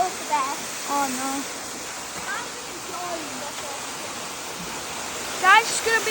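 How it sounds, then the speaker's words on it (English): A big waterfall at May Beck roars as a steady broadband wash throughout, with people talking over it and a louder burst of voices near the end. "Look at this big waterfall."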